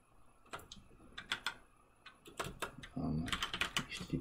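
A web address is typed into a browser on a computer keyboard during a PiFire installation, with irregular, close keystroke clicks spread through the clip that quicken into a denser run of taps near the end.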